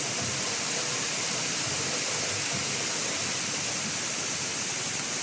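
Roar of a waterfall in the hills near Trabzon, Turkey: a dense, steady rushing wash of water, close and constant, with no voices.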